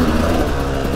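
A Sherco SE-R 300 off-road motorcycle engine runs steadily and loudly close by, a continuous mid-pitched drone with no pauses and no voices.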